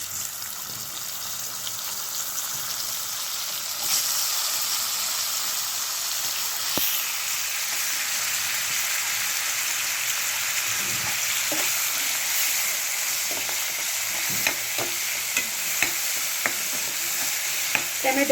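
Diced tomatoes hit hot oil flavoured with asafoetida and turmeric for an aloo tomato curry, giving a steady, close sizzling hiss with occasional stirring scrapes and small pops throughout.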